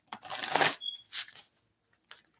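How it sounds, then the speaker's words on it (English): A deck of playing cards being shuffled against a leg gives several bursts of papery riffling and flutter, close and fairly quiet, with short pauses between the bursts. "And I'm literally shuffling on my leg right now."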